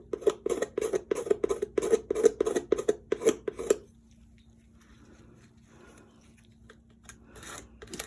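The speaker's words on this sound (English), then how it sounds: "you can see how much I'm getting off just by scraping" A tool scrapes cold wax off layered paint on a painting in a fast, rhythmic run of rough close strokes, then stops, leaving faint handling noise.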